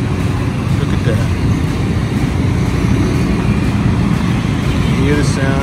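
Street traffic in Vietnam heard through an open hotel window, a dense continuous roar of engines with faint horn-like tones, fairly loud and steady throughout.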